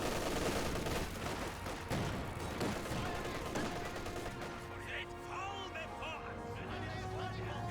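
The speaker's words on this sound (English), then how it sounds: "Grenadiers and MG34 firing away." An MG34 machine gun and German grenadiers fire in a Company of Heroes 2 battle, a dense, continuous rattle of automatic fire mixed with battlefield noise while a commentator talks over it.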